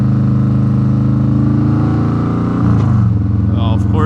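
Steady low engine drone of a 2020 Harley-Davidson Road Glide Special under way on the road, a continuous loud rumble with a brief shift in pitch near the end as the rider changes speed.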